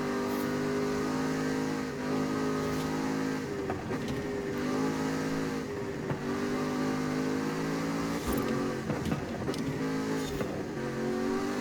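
A car revs hard in Forza Horizon 5, the loud engine note climbing and dropping sharply with several gear changes, continuous and close with no talking.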